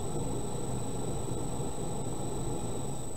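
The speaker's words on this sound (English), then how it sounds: "I apologize for the noise in the back. I got a dehumidifier going." Steady broadband hum of a dehumidifier running in the background, an unbroken whooshing drone with a faint high tone, no voices over it.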